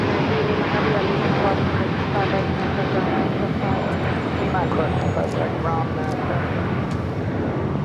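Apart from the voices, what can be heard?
China Airlines Airbus A350-900 taking off from LAX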